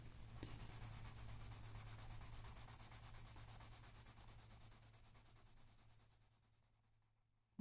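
A rainbow colored pencil rubbed sideways across paper, a soft continuous scratchy rasp of steady strokes that gradually fades toward the end, close and quiet, alone without talk.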